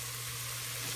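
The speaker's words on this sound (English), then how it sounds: "Give it a stir." Corn soup base sizzling and frying in a pot while being stirred, a steady close hiss with a low hum underneath and no talk.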